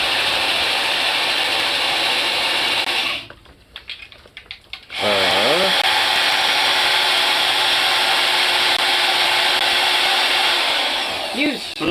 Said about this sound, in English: my drill's powerful